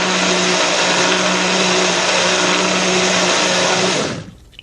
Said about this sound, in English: Now we just want to blend it up.